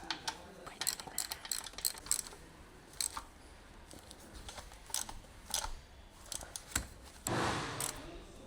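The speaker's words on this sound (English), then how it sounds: "Using the medium 12mm long socket with the medium ratcheting wrench, tighten the 4 compressor retaining bolts." Ratcheting wrench with a 12mm long socket tightening the four retaining bolts on a Honda Civic A/C compressor, heard as scattered bursts of clicking and metallic ticks, fairly quiet and close, with small pauses between runs.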